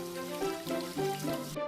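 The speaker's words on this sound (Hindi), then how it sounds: "अपने हाथों को पानी से भिगोकर नल बंद कर दो।" Tap water runs steadily for hand washing, a near, continuous splashing pour with slight rhythmic surges, then cuts off abruptly at the end, with no voices.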